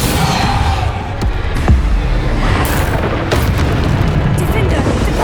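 A Depulso spell in Hogwarts Legacy lands as a run of booming, explosive bursts over a steady loud rumble of combat effects, with a few sharp cracks and a voice mixed in.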